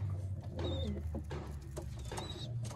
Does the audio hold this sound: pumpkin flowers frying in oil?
no